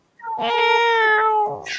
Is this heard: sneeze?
no